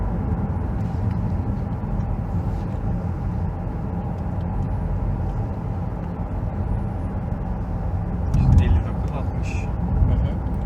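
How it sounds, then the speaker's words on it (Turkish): Inside a 2014 Opel Insignia 1.6 Turbo petrol automatic while driving, a steady low road and engine rumble fills the cabin, with a slight swell near the end. "Evet Muratçım bir desibeline bakalım aracın"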